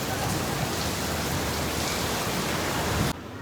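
Steady rain pouring down at an outdoor event venue where LED screens had been set up, a dense even hiss throughout that cuts off abruptly near the end, with no voices.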